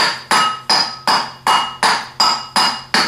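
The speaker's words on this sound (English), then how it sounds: "a hammer and tap it on" Hammer taps on an armature being fitted onto its oiled shaft in a vise during a 37MT starter rebuild: eight sharp, evenly spaced metallic strikes, close and loud, each ringing briefly before the next.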